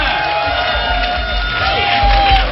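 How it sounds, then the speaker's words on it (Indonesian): Studio audience at a late-night Indonesian television show cheering and clapping, a loud, continuous crowd roar with whoops and a sustained tone running through it. "Benar, tepuk tangannya untuk Devi."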